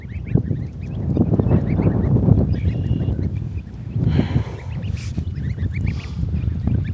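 Eight farmyard geese honk close by, giving repeated nasal calls that overlap in loose bursts. The flock's chatter carries on continuously, with a brief lull between flurries.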